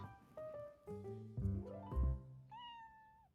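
A cat in a Thai drama scene gives several short meows, rising and falling in pitch, with a final longer high meow; close and clear against a quiet background, no talk.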